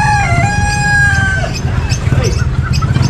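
Roosters crow with long drawn-out calls amid hens clucking at a busy Filipino outdoor pet market, a close, dense chorus of fowl with light crowd chatter underneath.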